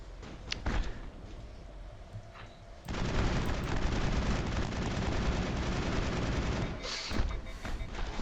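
Gunfire in the video game Mass Effect: scattered shots at first, then a sustained loud burst of rapid weapon fire with booming impacts, easing briefly before more shots.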